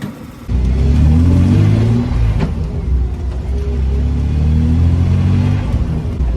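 A BMW 325i 2.5-litre 24-valve straight-six engine runs with a deep, steady rumble, revving and holding at a loud, close level with no voices.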